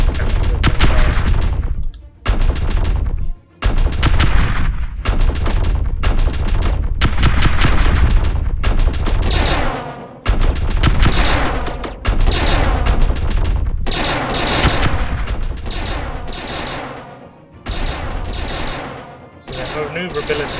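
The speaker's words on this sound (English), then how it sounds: "There must be those flak cannons." Flak cannons firing in the space strategy game Star Drive 2, a dense, loud barrage of rapid booming shots and explosive bursts that continues almost without pause, with brief gaps and speech mixed underneath.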